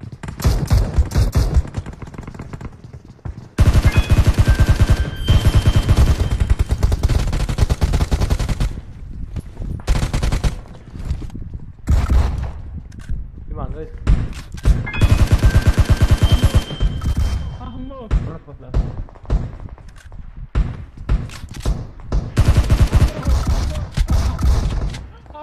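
Repeated bursts of rifle fire from a VSS and other guns crackle in a PUBG Mobile match, loud rapid volleys broken by short quiet gaps, some shots near and sharp, others thinner and farther off.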